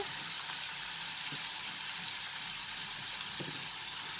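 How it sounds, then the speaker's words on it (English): Onion and dried red chilies frying in hot oil for curry leaf chicken, a steady close sizzle with faint crackles and small pops throughout, no one talking. "Along with this onion, I'm going to add the dried red chilies also"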